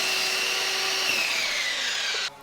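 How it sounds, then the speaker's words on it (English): A miter saw whines loudly through a cut in wood, its high-pitched tone gradually dropping before cutting off abruptly. "I trimmed the pieces to final length on the miter saw"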